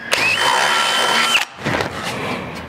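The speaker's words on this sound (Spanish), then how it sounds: "Cuando ustedes vayan a hacer la perforación, tienen que escoger una broca que esté justo a la medida del remache" An electric drill bores a hole sized for a rivet nut, whining loud and close for over a second before stopping, then spinning up again in shorter bursts.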